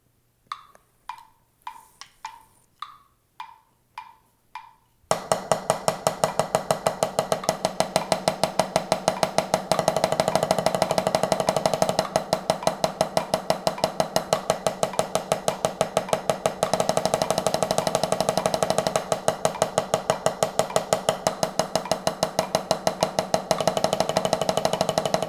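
A drum warm-up pattern with seven strokes grouped two, two, three, first as a few sparse, spaced hits, then a loud, fast, steady stream of close strokes running without a break to the end.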